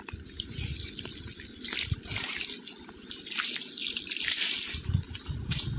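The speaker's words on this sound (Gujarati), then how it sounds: "અત્યારે આપણે પાણી ચાલુ કરી દીધું છે આગળ મહેંદીમાં" Water running to irrigate a garden with henna hedges, a steady trickling and splashing flow that continues close by for the whole stretch, with faint background noise and no talk.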